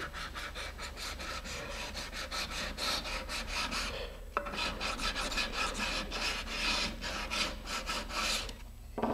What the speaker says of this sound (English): so what I'm going to do is sand along that fillet